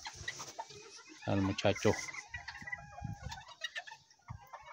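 Hens and roosters cluck and call around a ranch yard, with a loud burst of squawking partway through, while someone talks over the birds.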